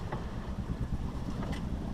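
Wind blows outdoors, a rough, gusty rumble buffeting the microphone for a couple of seconds with no talking.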